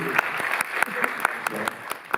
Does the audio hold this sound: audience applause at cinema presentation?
yes